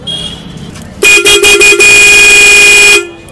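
A Hella D95 horn fitted to a TVS Radeon 110 motorcycle honks in four short loud blasts, then gives one long sustained blare, close up, after a brief stretch of quieter background.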